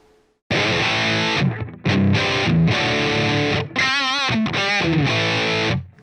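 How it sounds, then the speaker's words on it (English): Electric guitar played through a POD HD500X tube distortion model with a noise gate, loud sustained distorted chords with sharp cut-offs to silence between phrases, a short melodic run with vibrato in the middle. "we're going to move this tube distortion 1 notch in, and then we're going to apply a noise gate, which takes away all the noise"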